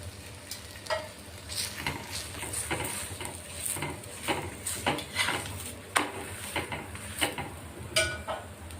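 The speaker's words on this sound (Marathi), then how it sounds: "आता चांगला तांबूस रंग होईपर्यंत आपण त्याला शेकून घेणार आहेत" Wheat-flour paratha roasting on a hot pan until golden, with steady soft sizzling and repeated spatula scrapes and taps at an uneven rhythm, close up and with no talk.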